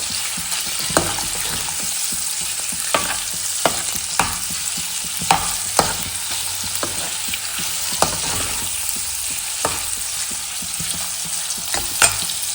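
Paneer cubes frying in a pan and being stirred, constant close sizzling with frequent sharp scrapes and taps of the spatula throughout.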